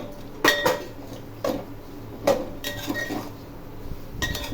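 Spoon clinking against a pot while stirring soybeans with spices and salt, a few sharp metallic knocks and scrapes spaced irregularly over a low background hum.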